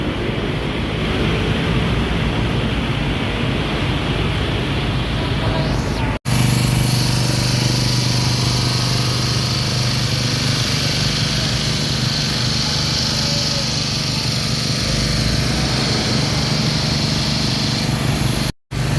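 An engine runs continuously at a drainage pumping station on G. Araneta Avenue, a loud steady mechanical drone with a high whine and broadband rush, briefly cutting out twice.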